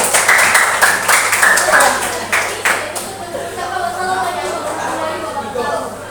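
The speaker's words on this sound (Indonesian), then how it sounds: "Tepuk tangan untuk kelompok 2." Classroom applause for a student group in Indonesia, a scattered burst of hand clapping that fades after a few seconds into murmuring chatter and faint talk.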